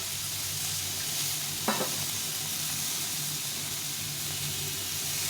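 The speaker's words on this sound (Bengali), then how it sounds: "এই আদা জিরাটা দিয়ে তরকারিটাই ভালো করে কষিয়ে নেব" Vegetables sauté in a pan with ground ginger-cumin paste, an even, close hissing sizzle with one brief spoon scrape partway through.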